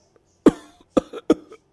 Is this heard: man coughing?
yes